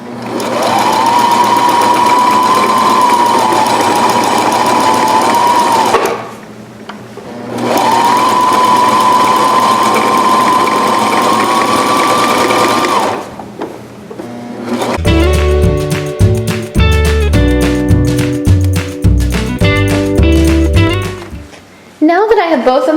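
A sewing machine stitches buttonholes into PJ pants in two long steady whirring runs with a short pause between them, followed by music with a strong beat.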